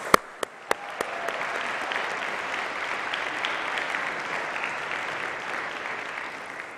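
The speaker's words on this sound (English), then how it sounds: "I think he deserves a huge round of applause" Audience applause for a student speaker at a college event, starting with a few sharp individual claps that swell into sustained, even clapping from a room full of people.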